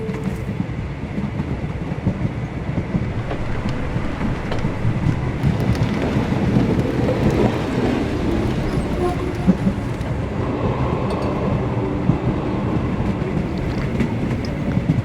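A train travelling at night in the Sherlock Holmes The Awakened video game gives a steady low rumble with faint rhythmic clatter, loud and continuous, with muffled rain-like noise and occasional voices underneath.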